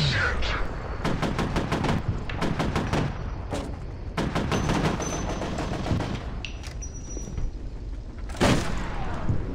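Assault rifle gunfire in the video game F.E.A.R., several rapid bursts of automatic shots cracking loudly close by, separated by short pauses, with one heavier blast near the end.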